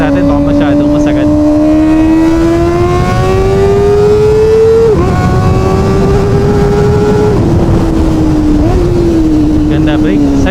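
Kawasaki ZX-4RR motorcycle on a test ride, its engine note climbing steadily through the revs, dropping at a gear change around midway and pulling again under wind roar, with a rider's voice talking over it.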